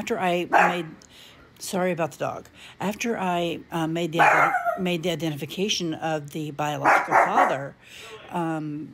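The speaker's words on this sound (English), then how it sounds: "Sorry about the dogs." Dogs bark somewhere in the background, with short sharp yaps coming through beneath a person talking continuously and close up.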